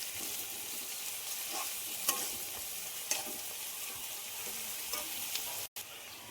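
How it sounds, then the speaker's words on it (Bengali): Chopped onions frying in hot oil as they are stirred into it: a continuous, even sizzle close by, with light clicks from the spoon and a brief break near the end, with no voices. "এখন গরম তেলের মধ্যে পেঁয়াজগুলো তেলের সঙ্গে মিশিয়ে নিচ্ছি"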